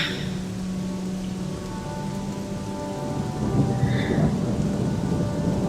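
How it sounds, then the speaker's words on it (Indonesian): Heavy rain falls without pause, a thick roaring wash that swells slightly louder in the second half, with deep rumbling beneath. "Lagi-lagi hujan cukup deras turunnya."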